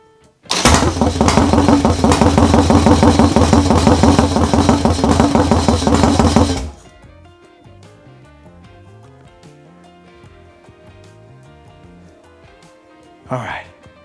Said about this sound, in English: Stoked to finally hear the bike run.